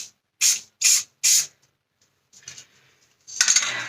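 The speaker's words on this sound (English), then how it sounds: "now it's going for our first spray of matte clear" Three short, sharp hissing bursts of matte clear coat spray on a model train in quick succession, then a quieter pause and a longer, rougher spray burst near the end.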